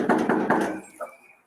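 Three quick, heavy knocks on a door, close and loud, followed by a brief faint sound as the clip fades.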